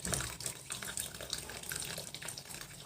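Wild termite mushrooms being washed in water, with a steady splashing, running-water wash and sloshing close by, continuous throughout with no talking.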